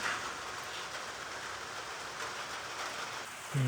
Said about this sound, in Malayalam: മഴ തുടങ്ങി ഗൈസ്.